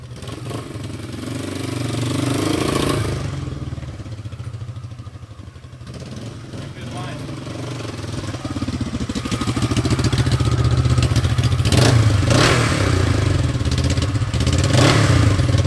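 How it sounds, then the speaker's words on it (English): A 1971 Honda SL350 twin-cylinder four-stroke motorcycle engine runs close by with a crisp, throaty exhaust, idling after a kick start and then revving higher and louder toward the end. "The unmistakable sound of an SL350 twin-cylinder four-stroke"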